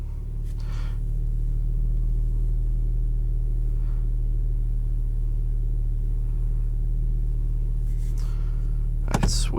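A 2021 Porsche Macan GTS engine in sport mode, holding a steady, deep, droning rumble from inside the cabin, with a few faint clicks and a brief sharper blip at the very end.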